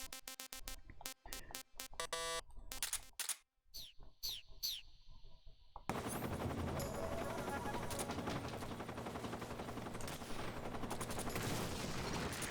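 A rocket attack on a Hind helicopter in Metal Gear Solid 3: Snake Eater opens with sharp bursts of gunfire and a few rising whistles, then gives way to a dense, sustained roar of explosion and rotor noise that holds steady.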